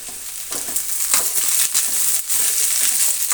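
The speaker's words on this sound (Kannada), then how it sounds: "ಎಣ್ಣೆಯಲ್ಲೇ ಚೆನ್ನಾಗಿ ಫ್ರೈ ಆಗಬೇಕಾಗತ್ತೆ ಬದನೆಕಾಯಿ" Brinjal fries in oil for brinjal gojju with onion in the pan, giving a continuous bright sizzle with crackling bursts and stirring pulses, close and steady throughout.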